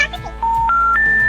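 Phone keypad dialing tones on a call that won't go through: a few steady beeps step upward in pitch one after another, loud and close, with a faint voice in the background.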